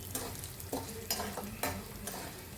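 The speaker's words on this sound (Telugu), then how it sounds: "అవి సగం ఫ్రై అయిపోవాలండి పచ్చిశనగపప్పు" Chana dal fries in a pan for curry leaf spice powder, soft sizzling under repeated scraping stirs from a spatula, several strokes in a steady rhythm, fairly quiet and close, with no voices.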